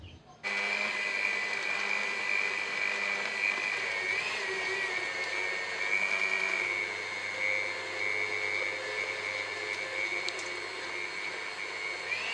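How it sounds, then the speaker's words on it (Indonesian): An electric stand mixer kneads bread dough for a sponge-and-dough Indonesian comb bread after the sponge starter is added, giving a steady, loud motor whine with a continuous hum throughout and no talking. "Kemudian aku tambahkan adonan biang dan mixer kembali."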